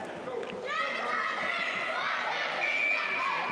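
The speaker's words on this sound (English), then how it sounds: "we get the cheer to break up the intermission" During the intermission of a 12U girls' youth ice hockey game, a crowd of children cheers and shouts, with high voices blending into a sustained, fairly loud rink din.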